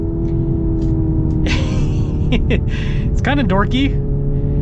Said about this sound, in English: the weirdest part is you can bounce off the rev limiter